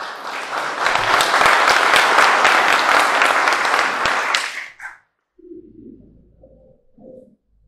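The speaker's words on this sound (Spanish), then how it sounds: "Palmas." Audience applause at a graduation ceremony in a Baptist church in Ayacucho, Peru: dense, loud clapping that runs for several seconds and stops abruptly, followed by faint low murmuring.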